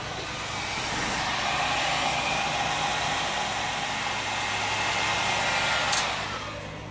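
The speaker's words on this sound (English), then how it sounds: "I wonder if I was to put the heat gun on that and dry it" A heat gun blows hot air over fresh paint on a model ship, giving a steady close whooshing roar that holds for about six seconds before cutting off with a click.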